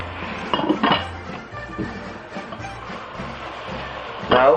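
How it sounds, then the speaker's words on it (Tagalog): Braised vegetables stirred in a pot, a few clinks and scrapes of a utensil against the cookware, with a louder clatter at the start and another at the end, while a person talks quietly in the background. "Now, hahaluin na natin ito."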